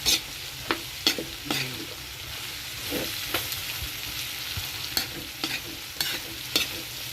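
A spoon stirs and mixes a Filipino dish in a pan over a steady sizzle, with a series of sharp scrapes and clinks against the pan, close and moderately loud, and no speech.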